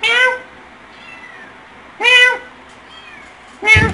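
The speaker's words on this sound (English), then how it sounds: "signing out with Pumpkin, which is whining in the background" A cat meows and whines in three drawn-out, rising-and-falling cries spaced a couple of seconds apart, close and fairly loud, with quiet gaps between them.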